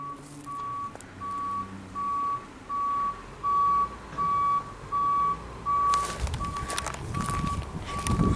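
A garbage truck stopping at the curb, its reversing alarm beeping loud and steady in regular pulses, followed by a burst of engine and air-brake noise near the end.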